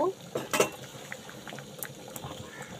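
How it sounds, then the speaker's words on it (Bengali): Ghugni, a pea curry, bubbles in a pot with soft irregular pops and gurgles, close by, and a couple of brief clinks near the start. "এখানে দেখো বন্ধুরা, ঘুগনিটা ভালো করে ফুটে গেছে"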